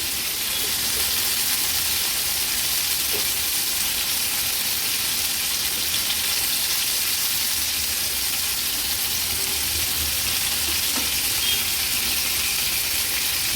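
Large oysters fry in oil on a flat tawa griddle, producing a loud, continuous sizzle and crackle that holds steady throughout with no talk.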